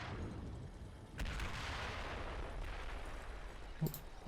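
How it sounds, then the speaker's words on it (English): Gunfire in the Combat Mission: Battle for Normandy wargame, with a sharp shot after about a second, then a rumbling battle wash and one more brief crack near the end. "Taking a few pot shots at our guys"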